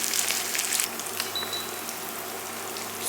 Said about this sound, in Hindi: तो मैं ऐसे शैलो फ्राई कर लूँगी